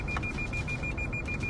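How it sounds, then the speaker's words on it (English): A Lexus car's sensors beep at a highway intersection: a rapid, continuous run of short, high electronic beeps over a steady low road rumble, with no talk. "their Lexus starts beeping out of control"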